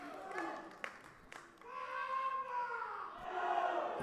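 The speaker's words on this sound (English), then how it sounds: "We have the Samoan team cheering on John Tuffy." A Samoan team shouts and cheers for their weightlifter at the 2025 Oceania Cup weightlifting competition. The voices are loud and sustained, with rising whoops and calls from a nearby crowd across the whole moment.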